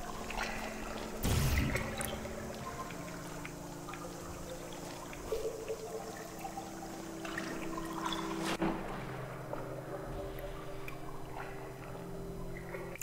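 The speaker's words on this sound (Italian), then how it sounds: "Ok, assolutamente non entrare in acqua. L'acqua è mia nemica." Water in Portal 2: a soft continuous liquid wash and trickle runs throughout, with a louder splash-like burst early on and a few faint knocks, and no talk over it.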